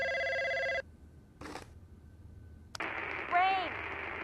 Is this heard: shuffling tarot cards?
no